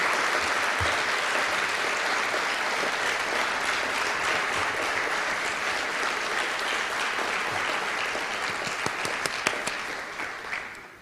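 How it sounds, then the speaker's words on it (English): A large audience gives a sustained round of applause for featured teachers at a Delaware Teacher of the Year event, dense steady clapping that fills the room and fades out at the end. "give them one really hearty applause, round of applause with gratitude"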